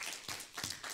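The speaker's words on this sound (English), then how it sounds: "Can you give him a good hand clap praise this morning?" A church congregation claps during a Sunday service, with a few short, fairly faint bursts of hand claps in an uneven rhythm.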